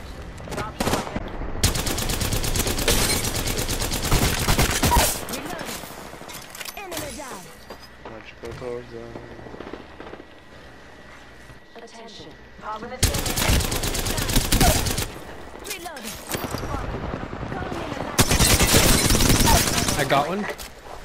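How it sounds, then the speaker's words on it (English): Rapid automatic gunfire from Apex Legends in close, loud bursts, heavy fusillades at the start, again mid-clip and toward the end, with quieter gaps between and a voice talking now and then. "Listen up, I'm getting shot at"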